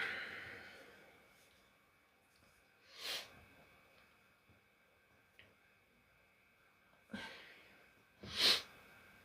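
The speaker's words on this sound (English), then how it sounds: "I need to sneeze." Quiet room with a sharp sneeze bursting out near the end, preceded by a couple of sniffs or snorting breaths.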